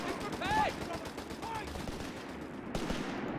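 Machine gun fire and explosions in Company of Heroes 3, a World War II strategy game, as dense rattling bursts of gunfire fill a continuous battlefield din with a sharp blast near the end.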